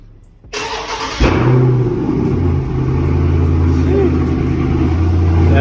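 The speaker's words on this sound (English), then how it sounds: "get that cold start" A widebody Dodge Charger Scat Pack cold start: a click and cranking, then the engine catches with a loud bark and settles into a deep, steady, rumbling idle close by.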